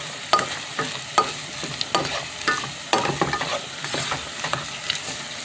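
Vegetables and tomatoes cooking in a pan for vegan Mediterranean spaghetti, a soft sizzle under repeated clattering stirs of a utensil against the pan, close and irregular.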